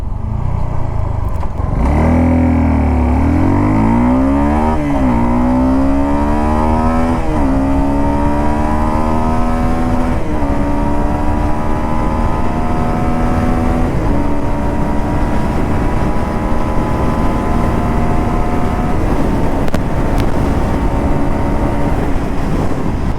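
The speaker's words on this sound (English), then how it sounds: "So let's pull the motorcycle a little hard." A BS6 Suzuki Gixxer SF 250 motorcycle pulled hard through its gears, its engine note climbing in loud rising sweeps with brief dips at each shift, then holding a high strained drone with steady wind rush.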